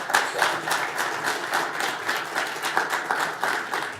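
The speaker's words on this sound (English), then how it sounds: "how about a big round of applause for our hand drummers here today" A crowd applauds hand drummers at a Mi'kmaq community launch event, steady overlapping clapping with scattered louder claps throughout, fairly close and sustained.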